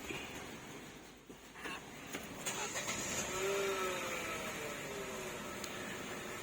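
A 2020 Nissan Almera VTurbo cranks and fires up using a newly programmed smart key, the engine catching and rising into a steady idle that sounds close and moderately loud.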